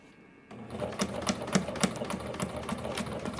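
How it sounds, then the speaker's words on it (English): A sewing machine stitches straight across elastic slot holders sewn into a bag lining, its steady rapid needle clatter starting after a brief quiet moment and running on evenly at close range with no talk. "once you lower your needle, you can remove that pin and sew straight across"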